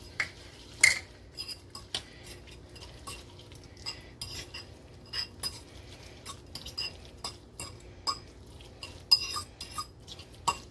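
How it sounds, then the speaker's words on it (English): Old-fashioned rolled oats being stirred into a mixture in a bowl for apple cinnamon oatmeal, with repeated close scraping and clinking of a utensil against the bowl in an irregular rhythm. "Now you're going to mix in your 1/4 cup of the, don't forget, old-fashioned rolled oats."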